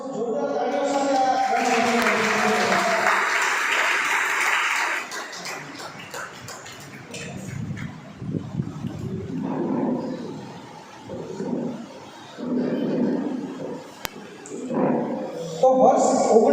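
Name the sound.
loud applause at a felicitation event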